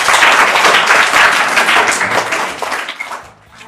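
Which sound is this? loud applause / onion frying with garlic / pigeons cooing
loud applause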